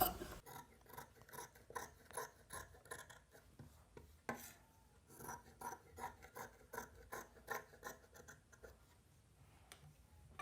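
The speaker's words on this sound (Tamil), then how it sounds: "நம்ம நெக்கை வந்து கட் பண்ணி எடுத்துக்கிட்டோம்" Scissors cut through cotton silk blouse fabric at the neckline, giving a quiet, close series of rhythmic snipping and crisp rustling strokes repeated steadily throughout.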